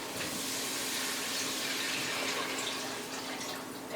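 Chicken broth, about five cups from a box, pouring steadily into a soup pot, a soft continuous liquid splashing rush, fairly faint and without talk.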